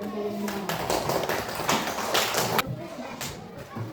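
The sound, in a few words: class clapping hands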